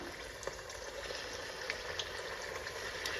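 Thick-cut broad beans frying in hot oil give a steady, faint bubbling sizzle with small crackles throughout, no voices over it.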